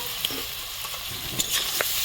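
Fried potatoes are stirred into a hot pan of oil with chilli and cumin powder, giving a continuous close sizzle broken by a few scraping clicks of the spatula.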